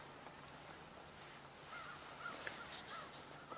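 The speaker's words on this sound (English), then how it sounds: "And you hear a crow or two." A crow caws a few times at a distance, short faint calls over a steady outdoor hiss of wind and background noise, with no voices.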